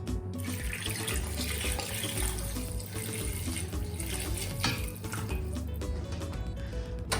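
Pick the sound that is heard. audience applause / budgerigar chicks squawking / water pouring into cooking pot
water pouring into cooking pot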